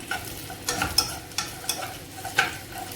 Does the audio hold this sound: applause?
no